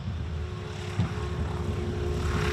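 A single-engine piston warplane, an FM-2 Wildcat or TBM-3E Avenger, drones steadily with a low propeller rumble and wind noise, a brief thump near the middle as it touches down.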